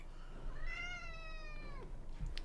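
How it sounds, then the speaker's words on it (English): A pet cat gives a single drawn-out meow, close and clear, over faint background noise. "Yes, Basil, you're a good cat."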